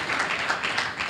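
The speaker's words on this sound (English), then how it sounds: "Clap for Jesus Christ, the mighty" Congregation clapping for Jesus Christ at a church deliverance service, a dense, steady burst of many hands applauding together, fairly close and loud, with no gaps.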